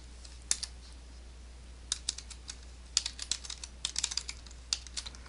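Keys clatter on a computer keyboard in short, irregular bursts of crisp clicks, close and fairly quiet over a low steady hum.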